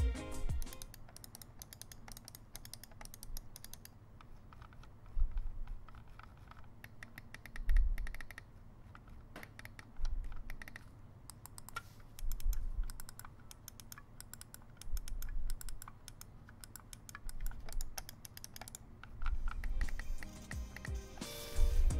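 Button switches on a Razer Taipan gaming mouse clicking, soft and fairly quiet, in irregular bursts of quick clicks with short pauses between them, close up against low background noise, with no talking.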